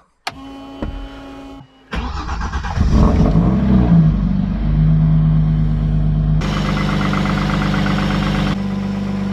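A rebuilt Peugeot 205 engine cranks with a whirring starter, catches and settles into a loud, close idle, then rises in a brief rev before idling on.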